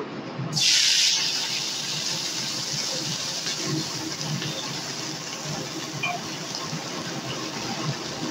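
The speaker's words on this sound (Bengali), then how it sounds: "প্রথমেই আমি কুমড়োর ছক্কার জন্যে কিছু চিংড়ি মাছ ভেজে তুলে নেব" Shrimp hit a pan with a little hot oil for a Bengali pumpkin chhaka, giving a sharp burst of sizzle that settles into a steady, crackling fry hiss lasting throughout.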